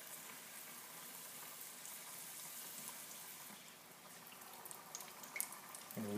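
Beer-battered fish frying in a pan of hot oil, a steady close hiss and crackle of bubbling grease that holds evenly throughout, with a small clatter at the end.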